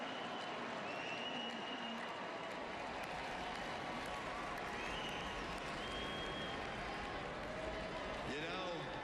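A large political convention crowd roars and cheers continuously at a moderate distance, a dense wash of voices and applause filling the space with a few whistles rising above it.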